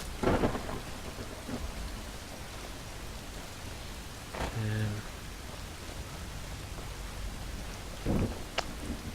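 Steady rain hisses throughout a thunderstorm in the video game Skyrim, with rumbling thunder swelling at the start, near the middle and again toward the end, and a voice briefly heard over it.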